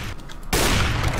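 Gunfire in Counter-Strike: Global Offensive, a sudden loud burst of shots cutting in halfway through a short moment and holding dense and close to the end.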